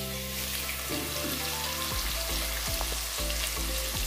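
Ginger garlic paste fries in a pan for egg biryani, giving a steady, close hiss and sizzle with occasional soft stirring scrapes.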